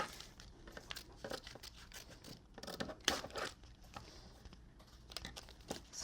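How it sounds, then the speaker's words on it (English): Scissors snip and trim a decal vinyl sheet for a confetti tumbler design, giving a run of small close crinkling cuts and rustles with one sharper snip partway through, no talking. "So let's trim this off."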